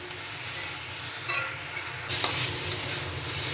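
Curry leaves drop into a spiced potato mixture in a hot pan, setting off a steady sizzle that swells into a brighter, louder frying hiss partway through, with faint stirring scrapes and no talking.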